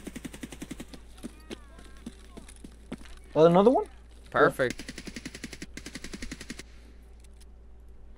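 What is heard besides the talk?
gunfire in a zombies video game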